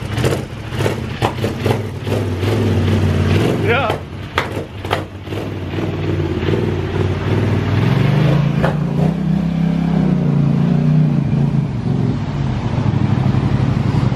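A Polaris RZR off-road side-by-side fitted with different tires runs close by, its engine droning and rising into a loud sustained rev, with a brief spoken word near the start.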